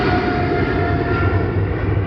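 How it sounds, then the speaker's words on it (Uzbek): An Emirates airliner's engines give a loud, steady roar, close and unbroken, with a faint whining tone riding on top. "Emirates samolyot."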